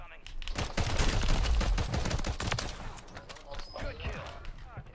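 Gunfire in Call of Duty Warzone on Rebirth Island: clusters of sharp rapid shots and bursts at moderate volume, densest early and thinning later, mixed with players' voices.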